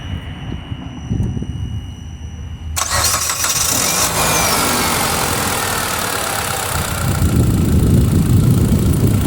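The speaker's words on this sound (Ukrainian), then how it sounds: "Заводимо автомобіль." A Mitsubishi Outlander XL engine cranks and catches, revving up loudly before settling into a steady running rumble, with no talking.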